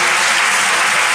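Dense, steady applause from a church congregation fills the space, loud and continuous with no voices on top.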